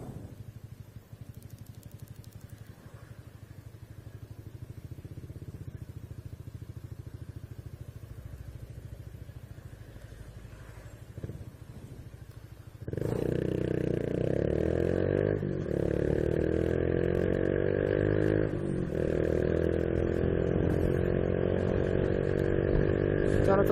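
A Biz 125 motorcycle engine with a strange noise in the gear, running at a low idle-like drone, then surging abruptly louder into a sustained, close accelerating roar with rattly, clattering overtones.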